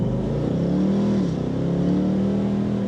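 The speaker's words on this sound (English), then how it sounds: "When you floor it from a standstill, it's not the quickest car in the world." A 2024 Ford Mustang 5.0 GT V8 engine revs up hard from a standstill, a loud, steady rising roar of acceleration heard close with no talking.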